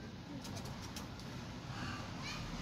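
Pigeons on a small farm give faint low coos amid a steady wash of background noise, with soft chirps and an indistinct voice in the distance.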